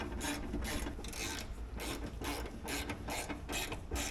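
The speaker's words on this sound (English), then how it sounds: "So all these bolts need to be tightened. I'm gonna go with this guy first." A ratchet cranks down bolts on an ARB twin air compressor mount in an 80 Series Land Cruiser, giving steady, close, rhythmic bursts of metallic clicking with no talking.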